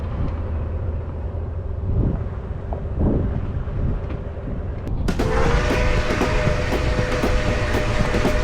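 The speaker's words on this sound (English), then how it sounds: "Train, eh?" A train rolls past nearby with a low rumble and rhythmic clickety-clack over wind buffeting the microphone. The sound swells into a louder, brighter metallic passage partway through.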